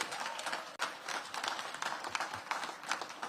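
Moderate applause for teachers and school staff at a back-to-school event in a DC public school, a steady patter of clapping from a modest crowd with no talk over it.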